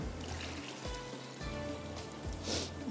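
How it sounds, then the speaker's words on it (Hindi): Soaked rice tips into a pot of simmering meat stock (yakhni) while making a desi dish, a close, continuous watery trickle and splash over a low hum, with no voices. "चावल डाल देते हैं।"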